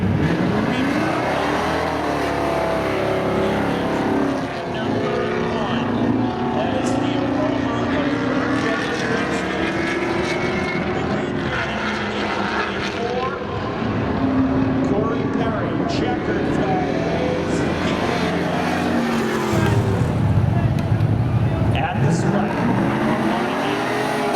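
A 1984 Chevy C10 and a 1997 Pontiac Firebird drag race at a speedway, engines roaring steadily and rising through gears over a long stretch, mixed with a track announcer talking throughout.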